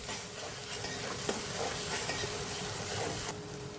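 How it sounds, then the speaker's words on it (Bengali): Ginger-garlic paste sautéing in a pan for prawn malai curry, a steady close sizzle with occasional soft scrapes of a spoon stirring, no voices. "বেশ ভালো করে কষিয়ে নেব।"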